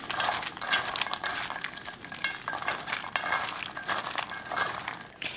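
Soaked soybeans are rubbed and scrubbed by hand in a bowl of water, making a continuous wet, gritty swishing that rises and falls without pause.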